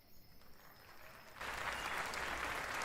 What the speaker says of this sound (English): Everybody give a resounding applause to Crystal.